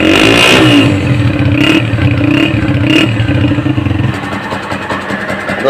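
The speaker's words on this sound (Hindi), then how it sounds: "आप सिलेंसर का साउंड इसका चेक करेंगे" A Honda CG125 motorcycle revs through its exhaust silencer close by, a steady throbbing engine note with a few sharper throttle blips, settling toward idle at the end.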